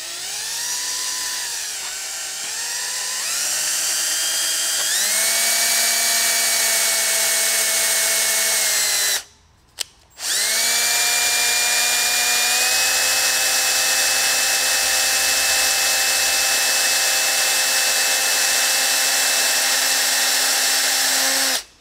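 A loud power drill whines steadily drilling out a broken thermostat bolt on a 22RE engine, its pitch climbing as it spins up, then cuts out briefly before running again at a high, sustained tone.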